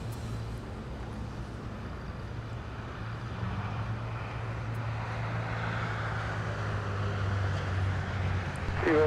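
An Avianca airliner arriving at LAX from Guatemala City produces a distant, gradually building jet roar over steady low background rumble, with no talking.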